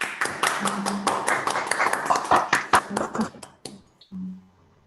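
Scattered participants in an online talk clap over open microphones, a few uneven, close hand claps and taps that fade after a few seconds, with a brief voice and hum at the end.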